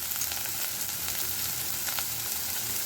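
Onions frying in a pan while preparing methi thepla: a steady, even sizzle runs throughout at moderate loudness, with fine crackling texture and no voices.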